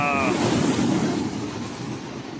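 Waves surge onto the rocky volcanic coastline at Osikan Beach in Accra, Ghana, a loud, close wash of surf mixed with heavy wind rumble on the microphone over a couple of seconds.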